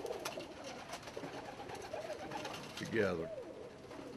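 Pigeons at a bird market cooing softly in the background, with a louder throaty coo near the end, while someone talks over them.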